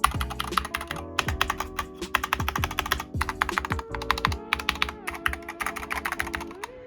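Fingers type on a mechanical computer keyboard close up, producing bursts of crisp, clacky keystrokes in quick, uneven rhythm. Short pauses break the runs, and no one speaks.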